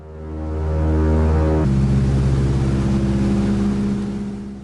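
The engine of a crop-duster airplane in flight roars loud and close, a steady droning hum that shifts pitch partway through. No voices are heard.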